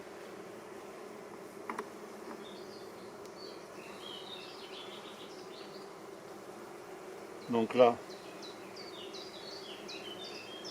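Honeybees buzz steadily around an opened beehive during an inspection, a constant low drone close by, with a brief clatter near the end and a few words spoken.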